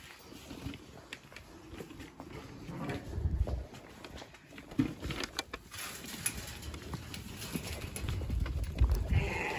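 Three sheep leave a barn on a farm, hooves shuffling and clopping irregularly at close range with low rustling and thuds across the clip, no talk over it.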